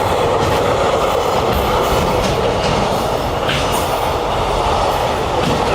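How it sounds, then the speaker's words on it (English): Cargo train rolling past in Warabi City, Saitama, Japan, early in the morning, a loud, close, continuous rumble and clatter of wheels on track throughout. "cargo train."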